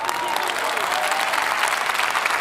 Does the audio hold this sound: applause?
yes